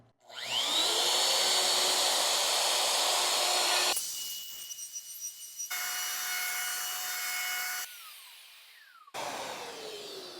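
A power drill and router bore and shape holes in a workbench top, a loud high-pitched whine and grinding through wood that spins up, shifts pitch across several passes and winds down between cuts.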